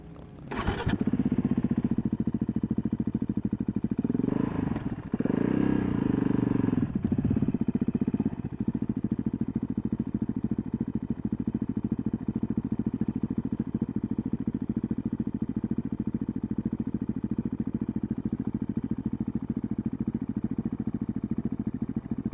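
A KTM 690 motorcycle's single-cylinder engine runs loud and close, revving sharply a few times early on as it lifts into a wheelie, then settling into a steady, sustained drone.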